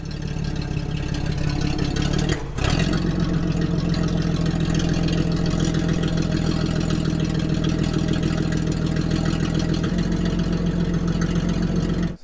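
An old farm truck engine runs steadily at close range, a loud, even low-pitched drone with a brief dip near the start before it settles back into a constant idle.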